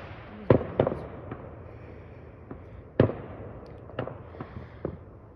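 Fourth of July fireworks pop and boom at a distance, scattered bursts of sharp cracks and thuds with quiet outdoor ambience between them.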